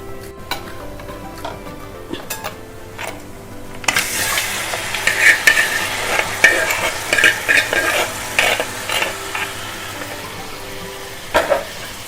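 Cooked koori fish head goes into a pan of frying food, starting with quiet scraping, then a louder sizzle and irregular clattering stirring strokes of a spoon against the pan, close and without voices.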